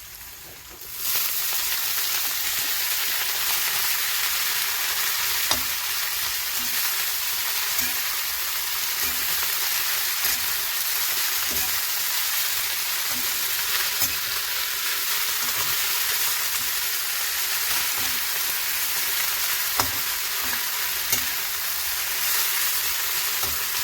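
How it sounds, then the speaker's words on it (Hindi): Amaranth greens stir-fry in a wok with garlic, a loud continuous sizzle close by, with faint rhythmic scraping and stirring taps running through it. "अब इसके अंदर थोड़ा थोड़ा करके चौलाई को ऐड करेंगे"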